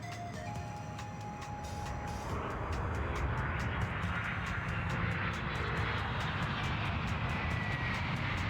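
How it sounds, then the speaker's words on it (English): An airplane lands in the air traffic control game I am an Air Traffic Controller 4, its engine a steady droning roar that swells slightly and holds loud throughout. "if we look at the aircraft that's actually landing at the airport, which is Blue Airways 459"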